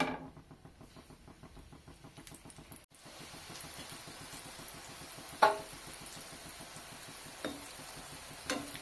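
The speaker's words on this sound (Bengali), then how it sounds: "সেম প্রসেসে বাকিগুলো ভেজে তুলে নেব" Mini khaja pastries frying in hot oil give a steady low bubbling sizzle with faint stirring, one brief louder clack midway, and no talking.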